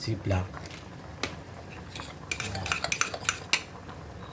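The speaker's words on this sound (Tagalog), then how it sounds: "Halo-haloin natin, baka mamaya magdikit-dikit na to." Chocolate rice porridge stirred in a pot, with a spoon clinking and scraping against the metal in uneven bursts and a thick squelch underneath; a voice speaks briefly at the start.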